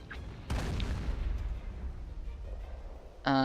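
British Royal Artillery fire lands in Company of Heroes with the Blitzkrieg mod: one loud boom followed by a rumbling decay. A short tonal game sound cuts in right at the end.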